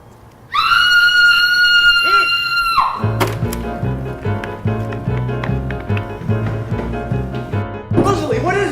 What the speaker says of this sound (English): Did you just hear a scream?